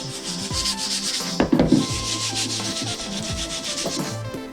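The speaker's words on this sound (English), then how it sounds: "Just giving it a lighter sand and then that's ready for top coat." Light hand sanding of a wooden MDF heart box, repeated scratchy rubbing strokes up close with a brief louder scuff partway through.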